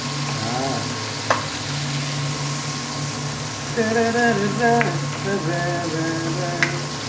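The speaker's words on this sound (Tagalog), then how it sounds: "Saka natin labog ang kamatis para lumasa" Tomatoes frying in a pan while being stirred, with a steady sizzle under the stirring and occasional sharp utensil clinks. A voice sounds faintly in the background.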